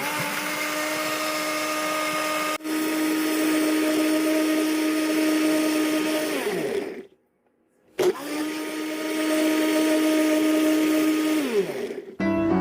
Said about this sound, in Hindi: ब्लेंड कर लेते हैं।